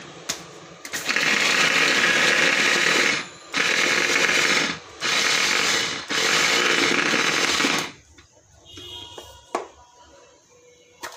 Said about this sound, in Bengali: চপারটার মধ্যে পেঁয়াজগুলো ছিলে এভাবে দিলাম